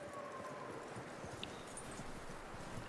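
Horse hooves clip-clop at a steady walking rhythm in Red Dead Redemption 2, fairly close and continuous over a low outdoor ambience, with no talking.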